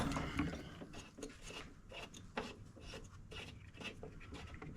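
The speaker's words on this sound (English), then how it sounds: "We'll take the plug out. It's going to be a 21mm" A socket wrench works loose the 21mm spark plug on a Honda push mower, giving quiet, irregular ratcheting clicks and metallic scraping up close throughout.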